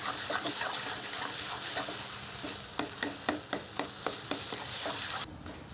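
Drumstick leaf paste frying and being stirred in a pan, a steady close sizzle with regular scraping strokes of a spatula, the sizzle dropping away briefly near the end.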